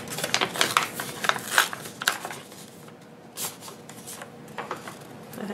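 An envelope from Screamin' Sicilian is torn and opened up close, with a string of quick papery rips, rustles and crinkles, loud and irregular.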